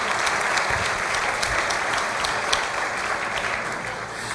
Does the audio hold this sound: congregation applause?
yes